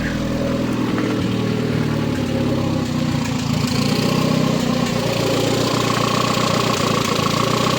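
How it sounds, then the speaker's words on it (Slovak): A car engine idles steadily right after being started, giving a continuous low, even rumble with a faint mechanical ticking layered on top. The engine is close and fairly loud, and no voices are heard. "Voľnobeh normálny, tak ako má byť."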